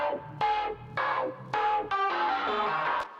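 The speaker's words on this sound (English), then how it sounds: "let's add a weird phone-sounding synth" Odd, phone-like synth lead in a pop production, playing short bright choppy phrases over a low bass line, close and steady with no voices.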